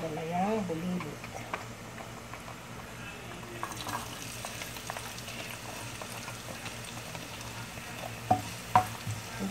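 Onions frying in a pan at home, a soft steady sizzle broken by light stirring scrapes and a couple of sharper clinks, while someone talks.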